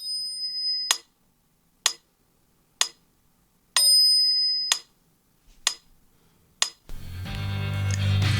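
A metronome played from a phone at a slow 63 BPM gives about seven sharp, evenly spaced clicks roughly a second apart, loud and close, before music suddenly comes in.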